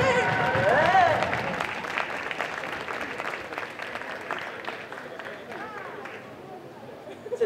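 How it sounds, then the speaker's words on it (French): A convention crowd applauds a cosplay contest prize winner at Strasbourg Japan Manga Wave 2023, with loud clapping and cheering voices at first, then gradually fading applause as voices carry on over it. "On applaudit s'il vous plaît"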